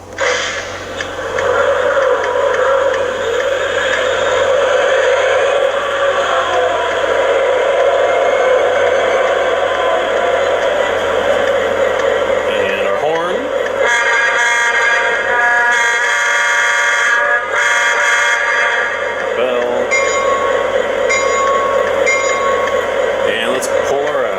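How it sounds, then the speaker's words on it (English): A Lionel Legacy SD40T-2 O-scale model diesel locomotive runs with a steady, loud electronic engine drone and whir, its tone shifting and rising partway through. "my relatively new Lionel Legacy SD40T-2. Let's go ahead and turn it on."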